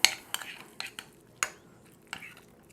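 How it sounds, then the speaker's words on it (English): Deviled egg yolk filling mixed with chopped onions using a spoon in a bowl, giving a series of light, quick clinks and scrapes at an uneven pace, close and fairly quiet. "And then you want to mix it up good."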